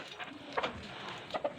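Short, soft clucks from a chicken sound in a few quick bursts, some close together, over a faint background hiss.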